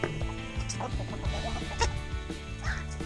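Hens in a chicken coop gathered around a new feeder cluck repeatedly, with overlapping close calls and a few louder squawks rising over the continuous flock chatter.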